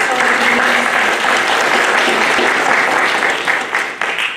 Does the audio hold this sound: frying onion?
no